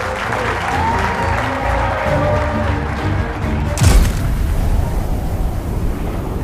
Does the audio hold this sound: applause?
yes